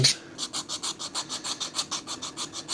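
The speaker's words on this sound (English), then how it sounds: "That was the last part to be cut from the laser cutting sheet, so I just need to file that down." A hand file rasps back and forth over a small nub on a laser-cut titanium part, making a steady run of about a dozen even, close strokes with a short scrape at the start.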